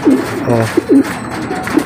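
Pigeons cooing inside a coop where two males are squabbling over territory, with several close, rolling low coos spaced irregularly across the moment.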